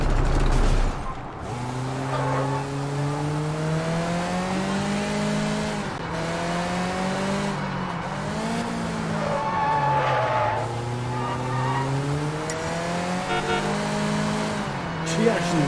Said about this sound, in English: Let's just take this car.